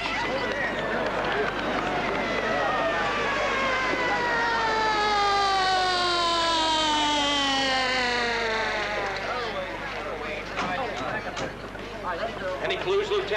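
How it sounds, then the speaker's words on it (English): A police car siren wailing in long rising and falling sweeps over a steady low hum, loud and continuous throughout, fading slightly near the end. "Here comes the police car."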